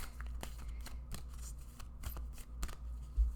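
A tarot card pulled from a deck, a few soft papery flicks and slides close by, quiet and brief with no talking.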